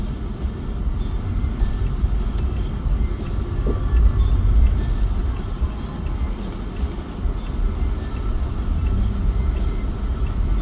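A car driving in heavy rush-hour traffic, heard as a steady loud rumble of engine and road noise from inside, with a low drone throughout and faint ticking above it.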